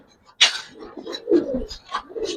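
Giribaz pigeons coo close by in a series of soft, throaty calls with a brief sharp chirp near the start, fairly quiet against a still background.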